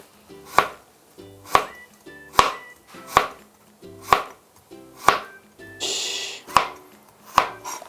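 A knife slices burdock root thinly on a cutting board, giving eight crisp, evenly spaced chops roughly once a second, close and clear with no talking.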